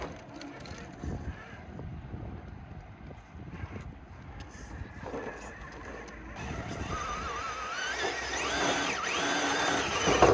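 A radio-controlled Traxxas TRX4 crawler truck driving in reverse on a trail, its small motor whining and rising toward the end amid wind noise and rustling, with people talking nearby.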